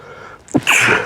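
A single sharp human sneeze: a brief intake and then a loud explosive burst with a breathy tail, close to the microphone, with no talking over it.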